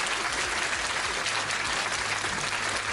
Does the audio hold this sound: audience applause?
yes